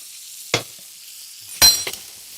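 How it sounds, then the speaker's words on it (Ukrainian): Steaks sizzle in a tilted pan as they are basted with oil, fried thyme and garlic, giving a steady hiss broken by two sharp, loud spattering bursts as the hot fat is spooned over. "Нахиліть пательню і просто поливайте стейки."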